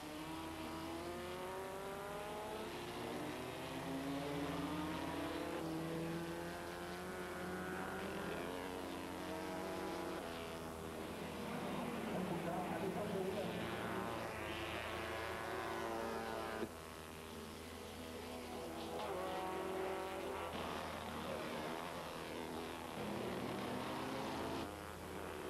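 Vintage Cooper and Lotus Formula Junior race cars competing at Montlhéry, their engines droning and revving as they pass at a distance, a continuous fluctuating roar with no clear talk over it.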